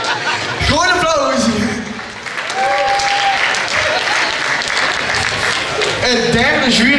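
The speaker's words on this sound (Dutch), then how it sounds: "Groot applaus!" Loud, steady audience applause fills a Dutch carnival children's session hall as a guest jury member is welcomed, with a host's voice calling out over the clapping near the start and end.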